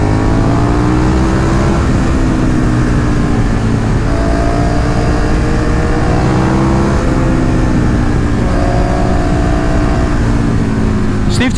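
A KTM 1290 Super Duke motorcycle engine drones loudly and steadily up close, its revs rising and falling through smooth, sustained tones without a break.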